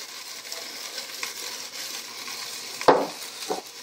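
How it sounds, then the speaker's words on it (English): Potatoes saute in avocado oil in a pan with a soft continuous sizzle, punctuated by a sharper scrape or clink of a utensil near the end. "Gonna pretty much just saute them here"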